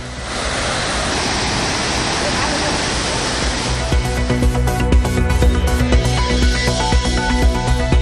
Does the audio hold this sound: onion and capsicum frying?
no